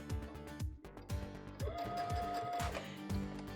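A Chorus sewing machine stitching free-motion quilting, its needle clattering in quick irregular bursts at close range, with a brief steady mechanical whine partway through.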